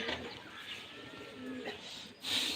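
A pigeon being lured down with food outside, with soft cooing and brief bird calls at moderate distance over quiet background, ending in a louder flutter-like burst.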